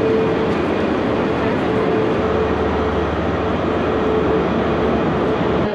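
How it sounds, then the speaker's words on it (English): Steady rumble and hum inside Glasgow Queen Street railway station as ScotRail trains idle and move, a continuous loud background of engine drone with a faint tonal whine throughout. "we've arrived at Glasgow's Queen Street station"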